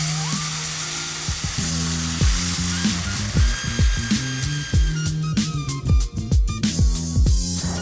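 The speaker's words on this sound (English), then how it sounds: "You can hear that sizzling happening." A pancake fries in a hot pan, with a steady sizzle running throughout, while a spatula or utensil repeatedly clacks and scrapes against the pan surface.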